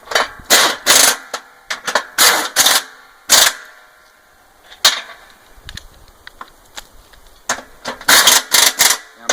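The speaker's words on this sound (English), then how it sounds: "we'll take our air gun, I believe that's a 1/2 inch if memory serves" A half-inch pneumatic impact gun tightens bolts while reassembling a mower deck, firing sharp rattling bursts in quick clusters separated by brief pauses, loud and close, with no speech.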